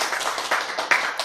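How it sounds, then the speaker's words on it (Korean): Brief scattered clapping from a lecture audience, a few quick irregular claps over about a second, moderately close with no talk. "박수!"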